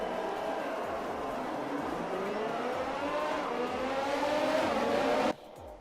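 F1 race cars in the F1 2020 video game speed through a wet Canadian Grand Prix, engines whining at high revs with rising and falling pitch as cars pass, before the sound cuts off abruptly near the end.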